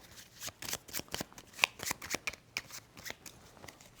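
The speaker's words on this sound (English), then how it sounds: "I need to shuffle." A deck of cards is shuffled during a solo tabletop game of Peacemakers: Horrors of War, with a quick run of crisp riffling flutters and soft slaps, close and clear with no talk.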